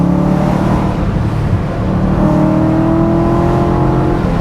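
A BMW Z8 fitted with Supersprint headers, sports cats, a full exhaust and a stage 2 tune revs loudly and close by, its engine note climbing smoothly in a sustained, rising drone with no talking.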